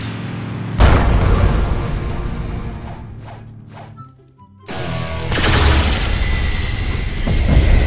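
Gunfire from a gun in the Blox Fruits video game: a loud blast opens, then whooshing impacts, a brief quiet gap and another sharp, booming burst of shots.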